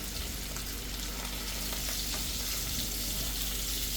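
A steady, crackling sizzle of dried fish frying in a hot pan, continuous and fairly close, with no talking.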